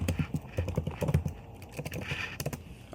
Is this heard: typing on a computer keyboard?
yes